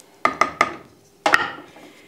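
A spoon striking and scraping a metal pot of navy beans and ham on a wood stove: three quick clinks, a pause, then two more ringing knocks with a short metallic decay.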